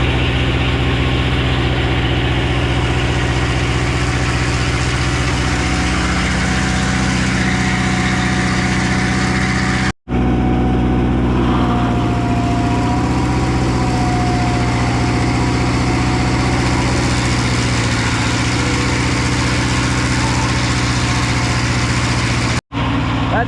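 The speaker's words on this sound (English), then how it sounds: "I did carburetor adjustment on the idle mixture air screw, and it sounds like it's running really good now." A sawmill engine idles steadily after an idle mixture screw adjustment on its carburetor, a loud, even hum that runs continuously throughout, broken only by two very brief dropouts.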